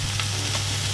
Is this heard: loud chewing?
no